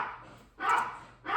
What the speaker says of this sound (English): if you know anything about Maltese, they like to bark